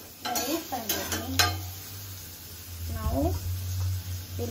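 Onions go into a hot pan for Maggi noodles and sizzle while a spoon scrapes and stirs against the metal in a few clattering strokes, with soft sizzling underneath and a voice speaking over it.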